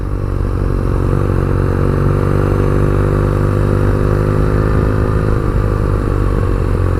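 A 2017 BMW R nineT Urban G/S motorcycle engine runs steadily at a constant idle-like drone, close and loud, with slight mechanical clatter and no speech.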